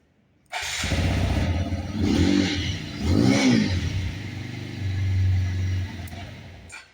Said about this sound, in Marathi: तुम्हाला मी आता साऊंड दाखवतो सायलेन्सरचा